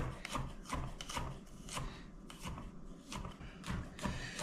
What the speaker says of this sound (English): We're gonna chop up some garlic here.